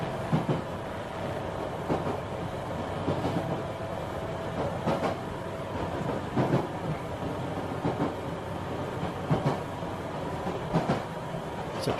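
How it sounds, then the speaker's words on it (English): A train runs along tracks with a steady rumble and regular clickety-clack beats from the wheels crossing rail joints, heard moderately near and alone. "It's a train tracks if you can't hear it."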